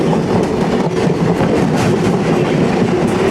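The Gorakhdham Superfast Express, running from Gorakhpur Junction to Bathinda Junction, passes close by as a loud, steady rumble and rush of wheels and carriages that fills the whole stretch without pause.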